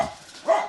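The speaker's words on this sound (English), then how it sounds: "If you can hear my dogs barking" Dogs barking indoors at home, two short yapping barks a moment apart, fairly close and moderately loud with no talk over them.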